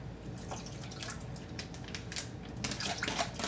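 Water from a tap trickling and splashing into a cooking pot to make steam for seafood, a close, fairly quiet run of pouring with small splashes.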